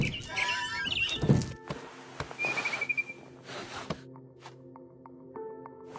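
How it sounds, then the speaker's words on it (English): Barn swallow chirps from the game What Remains of Edith Finch: a few short, thin whistled calls early on, then scattered faint ticks and chirps in a quiet interior. "Then I heard chirping outside my window. It was a barn swallow going back to her nest."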